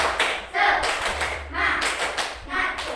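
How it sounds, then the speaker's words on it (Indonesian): Schoolchildren in an Indonesian classroom perform the rhythmic 'tepuk semangat' clap routine, bursts of group clapping in a patterned beat mixed with voices calling out together, close and lively. "Kemudian tepuk semangat."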